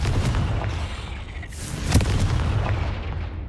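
Booming spell explosions from the Confringo curse in Hogwarts Legacy, a steady dense rumble of blasts with a sharper burst near the middle.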